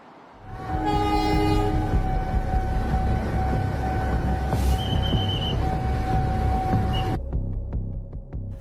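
The Bangunkarta train passes a level crossing at Pasar Senen in Jakarta, sounding a long, loud horn over heavy rolling rumble and wheel noise until the horn cuts off and the rumble fades.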